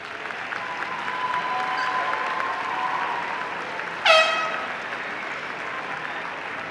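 Graduation ceremony crowd applauding supporters of the graduates, a broad steady wash of distant clapping throughout, with a short horn-like blast partway through.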